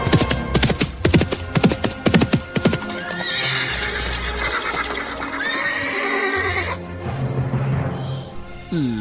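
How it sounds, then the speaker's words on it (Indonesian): A troop of mounted Mataram soldiers arrives on horseback with loud hoof clops, then a horse neighs and whinnies over a steady rumble. "tiba-tiba serombongan penunggang kuda yang tak lain adalah pasukan Mataram"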